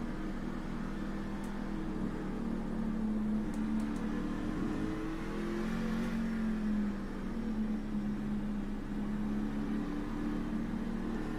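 A racing truck engine at Lime Rock Park holds a steady, droning whine that swells slightly as revs climb and ease, running continuously at moderate level.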